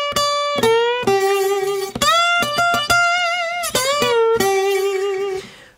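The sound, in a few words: slide guitar single notes played with the tip of the slide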